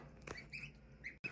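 A few short quacks and honks from waterfowl, close by and fairly quiet, with a brief pause near the end.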